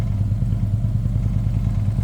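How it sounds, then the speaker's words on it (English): A 2012 Harley-Davidson TriGlide with Vance and Hines exhaust idles close by with a deep, loud, lumpy rumble that pulses steadily. "This does have Vance and Hines pipes or exhaust on it, high airflow and tune."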